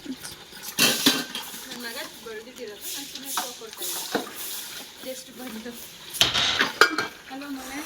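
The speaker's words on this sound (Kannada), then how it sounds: "ಎಷ್ಟು ಪಾತ್ರೆ ತೊಳಿತಿದೆ ನೋಡಿ" Metal pots, vessels and cutlery are washed in a home kitchen, with irregular clanks and clattering knocks near the listener while people talk over the noise.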